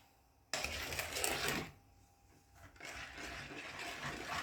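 Pecan praline mixture stirred in a shallow pot, a continuous scraping, sloshing churn that starts abruptly, swells, eases off briefly and then resumes steadily, close and moderately loud with no voices.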